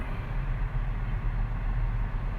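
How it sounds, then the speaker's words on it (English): Noisy train passing nearby, a dense continuous rumble with heavy low-end roar and steady rattling, loud throughout. "Wow, that's a noisy train."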